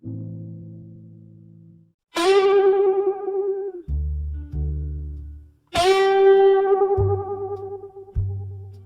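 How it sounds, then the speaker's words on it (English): Moody blues guitar riff with mournful bends, heavily effected and distorted: long sustained bright notes alternate with low droning chords, loud and up front, with no voice. "You hear behind every word a steady guitar with mournful bends."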